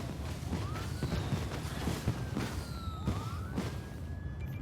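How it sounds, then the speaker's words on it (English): Emergency vehicle sirens wailing in a SimCity city scene, several rising and falling tones overlapping over a busy, dense background of city noise and clatter. "apologies for the sirens at the moment, it's going to get louder"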